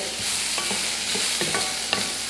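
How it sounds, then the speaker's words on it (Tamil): Bitter gourd being sautéed in a pan, giving a steady close sizzle with soft scraping stirs of a spatula at irregular moments, no voices. "நல்லா நம்ம பாவக்காய் வந்து நல்லா சுண்டி நல்லா வதங்கணும்."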